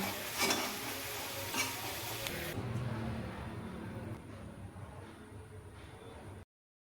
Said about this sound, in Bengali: মাছের আলুগুলোকে মাছ ভাজা তেলগুলো ভেজে নেব।